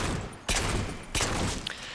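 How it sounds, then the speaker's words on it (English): Two sharp pistol shots from the Halo 4 video game, spaced about two-thirds of a second apart, loud and close, over a dense background game ambience. "Alright, so here's the pistol."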